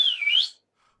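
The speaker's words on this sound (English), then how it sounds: "You whistled?" A person whistles one short sliding note that dips and then rises before stopping abruptly, leaving near silence.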